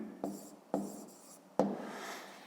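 A pen writes an answer by hand on paper during a fifth-grade math exercise, three separate scratchy strokes, close and quiet, with pauses between them.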